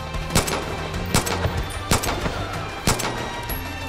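Gunfire in the video game Far Cry 5: several sharp shots spaced irregularly over a steady game background, each a loud crack.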